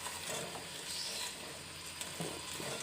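Marinated vegetables in a yogurt marinade sizzle quietly in a pan on the stove for a vegetable dum biryani, a soft continuous frying hiss with faint stirring clicks, and no talking.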